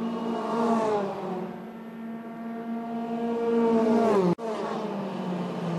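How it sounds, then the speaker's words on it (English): A Formula 3 race car with a Mercedes engine screams past on the circuit, its rising high-revving whine building close and loud. A sharp gear change cuts in before the engine note carries on, and a second car follows. "Hamilton and Sutil coming through the ASM F3 run cars, Mercedes engines."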